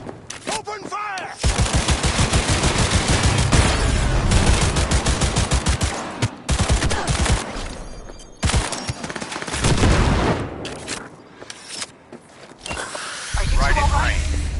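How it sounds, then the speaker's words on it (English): Video game gunfire rattles in long, rapid automatic bursts, loud and close, broken by short pauses and mixed with booming shots, with voices calling out between volleys. "Open fire!"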